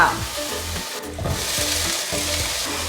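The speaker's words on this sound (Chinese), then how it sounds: "現在加入綠花椰菜和小番茄翻炒" Broccoli and cherry tomatoes stir-fried in a hot pan with caramelized king oyster mushrooms, a steady close sizzle broken by repeated scraping stirs of the spatula.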